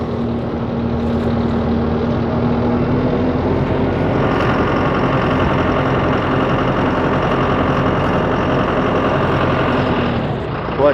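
A Peterbilt 386 truck engine runs steadily and loudly while a Landoll trailer bed is raised. A higher mechanical whine joins the deep idle about a third of the way in and holds until the sound eases near the end.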